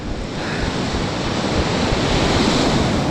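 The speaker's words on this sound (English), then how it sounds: "The wind is just blistering right now." Strong wind and crashing waves on Lake Superior during a winter storm, a loud continuous roar of surf and gusting wind buffeting the microphone, with no voices.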